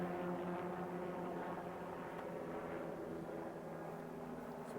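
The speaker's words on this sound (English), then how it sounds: "these helicopters choose the same time to fly around here and annoy me" Helicopters drone steadily overhead, a low continuous rotor rumble that stays fairly constant and moderately distant throughout.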